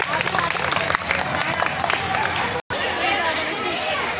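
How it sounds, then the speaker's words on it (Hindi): Lively audience applause for children performing at a Gita Jayanti school program at a gurukul in Ghaziabad, dense clapping mixed with crowd chatter, briefly cut off before resuming. "तो जोरदार एक बार तालियां इन बच्चों के लिए हो जाए"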